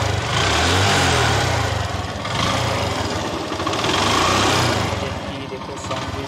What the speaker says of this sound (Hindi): अभी आपको इसकी साउंड सुनाता हूँ, साउंड किस प्रकार की है इस बाइक की